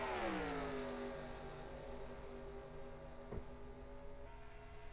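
Race car engines in a sim racing video game, including the Hotshot Chevrolet number 15, one engine's pitch sweeping down as it passes, then a steady high whine continuing beside a faint click.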